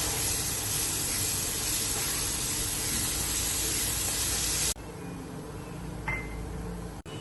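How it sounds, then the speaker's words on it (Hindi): Almond paste roasting into semolina halwa gives a loud, steady sizzling hiss that drops abruptly to a quieter simmer partway through, with a faint clink near the end. "अब ये जो बादामों का पेस्ट हमने बनाया था ये हम इसमें शामिल कर देंगे और इसको भी अच्छे से हमने भून लेना है।"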